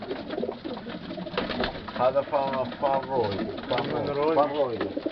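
Pigeons cooing repeatedly in a loft, soft throaty calls layered together while someone talks over them.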